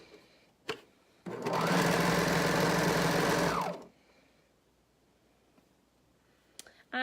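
A home sewing machine stitches the seams of a women's strappy maternity top in one steady, close, loud run of about two and a half seconds. Brief clicks and handling noises come before and after it.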